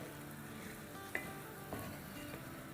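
Moong dal roasts in a pan over a medium-high flame, giving a quiet, steady sizzle broken by a couple of soft clinks as it is stirred.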